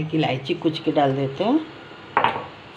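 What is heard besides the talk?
No distinct noise like a dog, phone or traffic.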